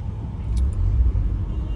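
Cars crawl through a heavy traffic jam, giving a steady low engine rumble that stays close and unbroken, with a brief faint high chirp and no voices.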